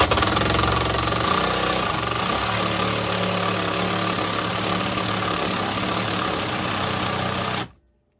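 A power drill bores a hole during a garage electrical upgrade, its motor whining loud and steady with a buzzing, rattling edge for several seconds before cutting off abruptly.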